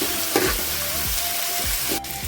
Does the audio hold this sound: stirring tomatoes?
yes